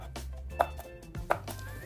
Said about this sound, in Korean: 오이를 썰어 줍니다